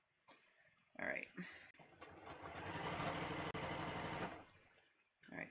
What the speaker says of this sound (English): I'm just stitching off the fabric, and then I'm gonna just stitch in the stitch inside the pleat